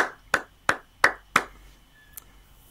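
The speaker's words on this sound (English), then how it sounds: "Thank you for that golf clap and that sarcastic clap" Five slow, evenly spaced hand claps from a single person, crisp and close, a deliberately sarcastic golf clap, followed by a brief faint tap.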